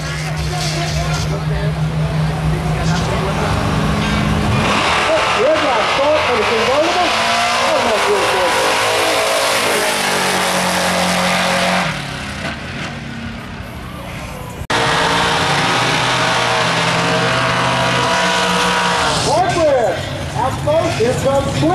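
Drag race cars roll into the staging lanes at Texas Raceway, engines rumbling and revving loudly, with a race announcer talking over the noise.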